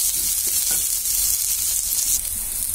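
Onions fry in oil in a pan as ginger and garlic paste go in for a Bengali-style egg curry, a steady loud sizzle with a few soft stirring knocks and no talk.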